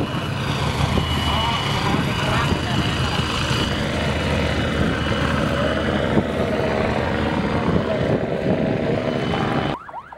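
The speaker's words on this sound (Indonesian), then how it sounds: "satu unit helikopter milik Polda Babel tampak patroli lewat udara" A police helicopter patrols low overhead above dozens of fishing boats at sea, its loud, continuous rotor and engine drone filling the scene steadily before cutting off abruptly near the end.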